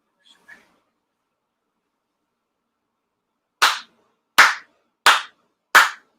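Four sharp, evenly spaced ceremonial hand claps ring out loud and close at a Shinto memorial service, following a faint brief sound and a long silence.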